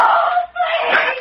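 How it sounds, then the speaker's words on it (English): A woman screams in the night in a radio drama, two loud, sustained wailing cries split by a short breath-like dip, close and alone with no other sound. "She screamed."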